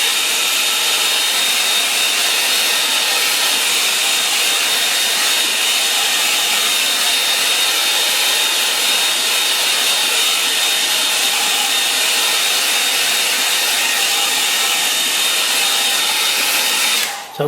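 A hair dryer blows steadily and loudly on a watercolour painting of a river scene, a continuous broadband whoosh with no pauses or talk that cuts off abruptly at the very end.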